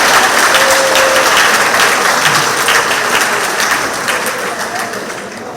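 A crowd at a community centre monthly meeting applauds loudly, a dense burst of clapping that gradually tapers off toward the end.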